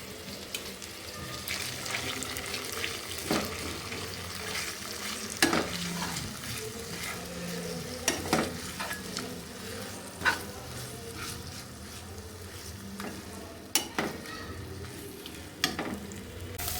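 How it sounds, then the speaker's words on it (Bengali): Onion, garlic and ginger paste with a little salt fries steadily in a pan for a Bangladeshi-style chicken roast, a constant close sizzle broken by repeated scraping stirs and occasional sharper clinks. "মশলাটাকে আমি ভালো মতো কষিয়ে নিয়েছি যাতে কাঁচা গন্ধটা চলে যায়"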